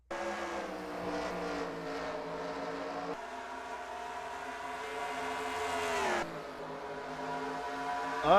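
Race cars in NASCAR Racing 2003 drone steadily at high engine revs, their pitch rising and shifting as cars pass and change gears, heard continuously with no talk.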